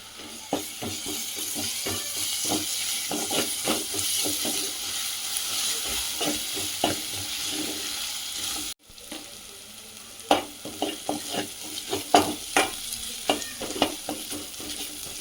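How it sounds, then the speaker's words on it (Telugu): Onions and ginger-garlic paste sizzle steadily in a pan for a mango and dried fish curry, with repeated stirring scrapes and clinks throughout; a brief drop near the middle before the frying and stirring resume. "ఉల్లిపాయలు వేగినాయి ఒక చెంచా అల్లం వెల్లుల్లి పేస్టు"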